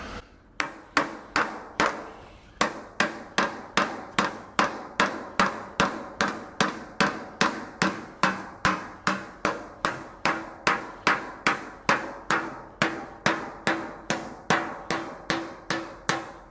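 Sheet metal for a 1938 Cadillac body is shaped with a hammer on a square sandbag, steady evenly spaced blows, about two per second, close and crisp, continuing for the whole stretch with no speech.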